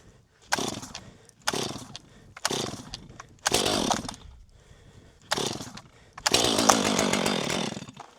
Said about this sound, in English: This saw has not been a great starter cold.